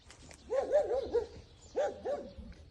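A dog barks in a quick burst of four or five yips, then two more after a pause, moderately close at an outdoor fishing spot, with no talk over it.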